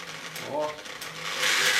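A PMZ-1A treadle sewing machine with a wire pedal spins up to high speed, its fast mechanical whir and rattle rising and brightening over a couple of seconds, close and fairly loud.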